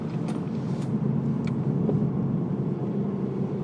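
A 2020 Kia Stinger GT-Line with a 2.0L turbo and AWD coasting off throttle, a steady low road and engine rumble heard from inside the cabin with a few faint higher noises.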